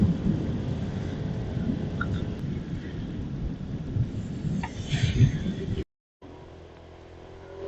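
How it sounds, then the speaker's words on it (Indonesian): Heavy rain roars steadily around a motorcycle on the road toward Puncak, a dense wash of noise that cuts out briefly near the end, then resumes more quietly. "Hujannya belum ada tanda-tanda untuk berhenti guys."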